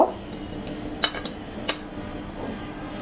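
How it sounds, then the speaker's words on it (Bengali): Chapti batter being mixed in a bowl with turmeric, salt and ginger-garlic paste, a utensil clinking sharply against the dish a few times over a soft steady background. "এখন এগুলো সবকিছু দিয়ে আমরা চাপটির ব্যাটারটা করব।"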